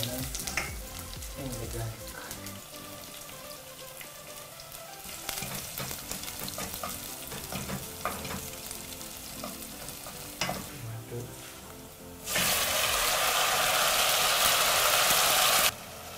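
Onions fry in about 30 ml of olive oil for a pizza and pomodoro sauce, stirring clatter and low sizzle giving way to a loud, steady hissing burst near the end, with no voices.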